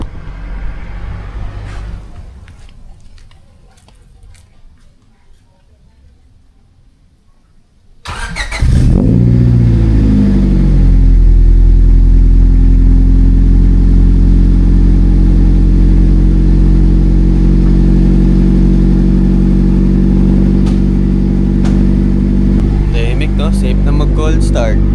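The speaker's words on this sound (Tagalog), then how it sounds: "Like makina na yung rinig mo." A Honda Civic engine with an aftermarket muffler turns over after quiet moments and settles into a loud, deep, throaty rumble that holds steady, with voices heard early on.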